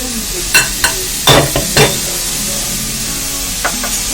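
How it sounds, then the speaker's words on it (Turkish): A few short clattering scrapes and thuds as chopped mushrooms are tipped into a pot, close by, then quiet with a faint background hum. "Şimdi haşlamak için tencereye alıyorum."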